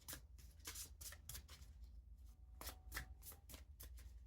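Tarot cards shuffled by hand: a quick series of crisp riffling bursts, close and clear, with a short pause in the middle before more rapid shuffles, and no talk.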